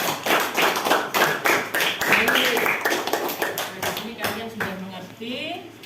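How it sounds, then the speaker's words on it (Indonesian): A group claps together in a steady, brisk round of applause lasting several seconds, fairly close, with a voice briefly audible near the end. "Tepuk tangan"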